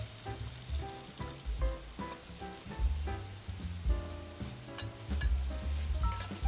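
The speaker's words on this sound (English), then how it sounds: "Now stir fry the carrot." Carrot stir-fried in a pan, a busy sizzle with repeated scraping strokes of the spatula, close and steady throughout with no voices.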